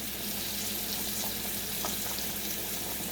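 Pork tenderloin pieces fry in a pan with a steady, close sizzle and crackle that runs unbroken throughout, with faint scraping of stirring now and then and no voices.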